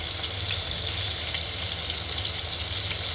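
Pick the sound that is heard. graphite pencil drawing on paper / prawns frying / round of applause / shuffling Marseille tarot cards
prawns frying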